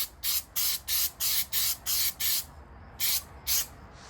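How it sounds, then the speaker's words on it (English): An aerosol can sprays paint onto a car's rock guard during rust repair, seven short even hissing bursts in a quick rhythm, a pause, then two more, close and clear with no talk. "So I'm gonna go ahead and paint the rock guard first."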